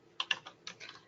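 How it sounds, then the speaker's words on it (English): Quick computer keyboard typing, two short clusters of crisp key clicks close to the microphone with no voice over them. "I'm just going to type it out here."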